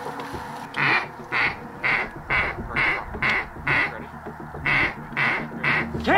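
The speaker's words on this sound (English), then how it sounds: "Two ducks on the left." Ducks quack in a steady series of about nine short, evenly spaced calls during a waterfowl hunt at Willow Lake, South Dakota, loud and fairly close against faint outdoor background.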